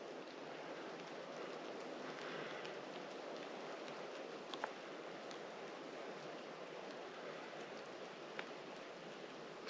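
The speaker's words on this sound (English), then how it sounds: "The dripping of the rain." Rain patters and drips steadily among Pennsylvania pine trees, a soft even hiss with a few brief, louder drops landing close by, and no one speaking.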